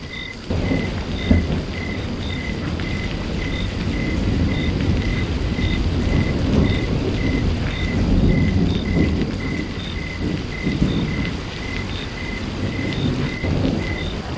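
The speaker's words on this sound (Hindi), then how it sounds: "बारिश उल्टी हो रही है" Heavy rain pours steadily alongside rumbling thunder, a dense, loud wash with no voices, while a faint repeating chirp like crickets pulses in the background throughout.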